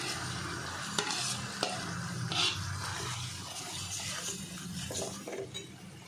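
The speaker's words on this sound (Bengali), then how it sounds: "আমি এবারে তিল আর বাদামের পেস্টটা দিয়ে দিলাম।" Sesame and peanut paste is stirred into masala frying in oil over a low gas flame for a paneer dish, giving a continuous hissing sizzle broken by occasional spoon clinks and scrapes against the pan.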